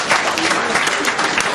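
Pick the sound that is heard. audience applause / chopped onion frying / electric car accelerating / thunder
audience applause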